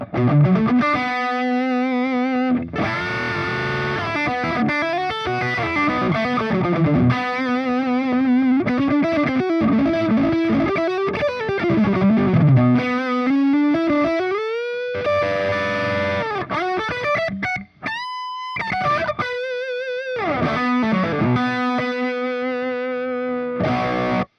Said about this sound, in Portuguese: Já com bem mais ganho à disposição, realmente tem essa cara de canal lead, né?